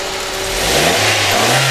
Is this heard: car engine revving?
yes